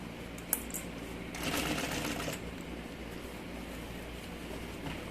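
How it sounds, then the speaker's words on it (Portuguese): Sewing machine stitching a zipper into a large changing bag, a continuous low mechanical whir with a slightly louder stretch near the start, steady and moderately faint, no voices. "vai começar a costurar ali o zíper no lugar por dentro"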